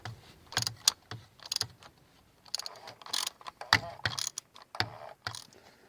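A ratchet with a 15/16 socket on a universal joint and a 4-inch extension works the oil drain plug of a 2014 Buick Encore, giving close, sharp bursts of clicking in an uneven rhythm.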